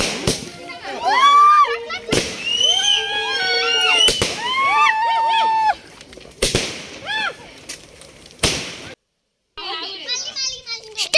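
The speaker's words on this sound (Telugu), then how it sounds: "కటింగ్ తర్వాత క్రాకర్స్ కూడా" Firecrackers set off at a 31 December New Year's Eve celebration after a cake cutting burst in sharp, loud cracks about every one to two seconds, among excited children's shouts and chatter.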